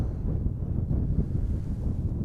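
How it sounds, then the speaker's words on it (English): Strong wind buffets an outdoor microphone on a wobbling monopod stand, a continuous loud low rumble of gusts lasting throughout with no talk. "the wind's blowing hard"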